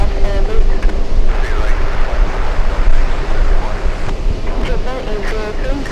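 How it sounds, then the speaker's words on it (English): Strong wind gusts at an airport roar steadily across the whole stretch, broadband and close to the microphone, with faint voices and radio chatter underneath. "A lot of wind today."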